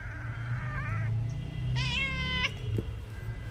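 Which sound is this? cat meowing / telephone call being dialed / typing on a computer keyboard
cat meowing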